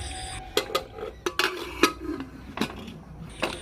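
A pressure cooker of chickpeas is set onto a home kitchen stove during a cyclone day. Several sharp metallic clanks and knocks of cookware sound close by, spaced irregularly over a quiet background, with no talking.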